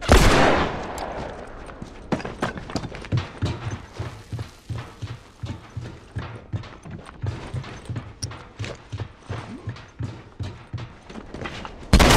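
Rhythmic rifle fire in The Last of Us Factions, a steady run of evenly spaced shots repeating for about ten seconds, with a louder blast at the start and another at the end.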